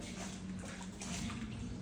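Water gushes into an apartment from a failed sanitary pipe, a constant rushing, splashing flow like a tub filling, heard steadily and up close with no speech.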